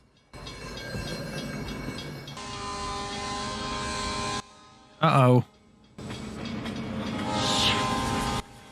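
A steam train approaches in a Back to the Future Part III film scene: a rumbling, clattering run, then a sharp burst of horn, then more rolling rail noise, with a brief spoken exclamation.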